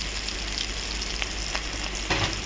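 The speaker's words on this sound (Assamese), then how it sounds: "এইখিনি ধুনীয়াকৈ ভাজি ল'লে হ'ল, অলপমান ব্ৰাউন কালাৰ অহালৈকে।" Panch phoron five-spice seeds fry in hot oil for a spinach and fish curry, giving a steady close sizzle with a few faint crackles and no talk.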